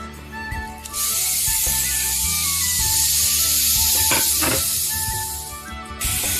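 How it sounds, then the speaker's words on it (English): Pound of ground beef dropped into a hot pan, bursting into a loud, steady broadband sizzle that holds for several seconds and eases off near the end, with no talking over it. "I'm going to go ahead and add the 1 pound of ground beef to our pan"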